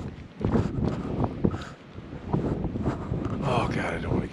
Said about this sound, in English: Wow, what a windy night.